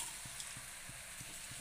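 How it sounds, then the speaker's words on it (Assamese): Cabbage fries in a pan with a steady, broad sizzle, marked by soft, regular low thumps of stirring that come roughly every third of a second. "ইফালে বন্ধাকবি ভাজি আছে,"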